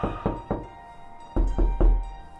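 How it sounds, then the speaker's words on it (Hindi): Knocking on a door in a college dormitory hallway: three hard raps, a short pause, then three more, close and dull with a woody thump, no voices. "मैंने उनसे मिलने का फैसला किया और ये सोचकर दरवाजे पे नॉक किया"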